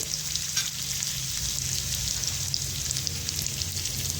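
Thick-cut onions frying and being stirred in a pan, a steady close sizzle with faint scraping, continuous and alone.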